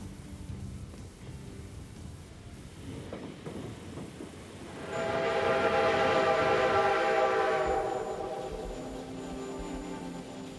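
A White Pass & Yukon Route train rumbles steadily crossing 1,000 feet over Glacier Gorge, then a loud, sustained roar swells midway with a high whistle-like tone as it enters a tunnel, fading slightly toward the end.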